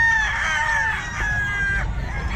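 A rooster crows loudly and close at a pet market in Bocaue, one long drawn-out call with other fowl faintly behind it and a busy background murmur.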